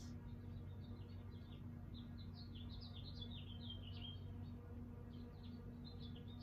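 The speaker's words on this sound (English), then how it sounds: "hearing the birds" Light, high bird chirps and twittering repeat steadily over a quiet low hum, sounding a little distant.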